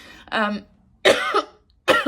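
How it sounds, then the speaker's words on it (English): Three short, dry coughs close to the mic, with brief pauses between each burst. "I've still got this really dry, annoying cough"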